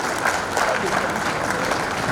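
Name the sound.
audience clapping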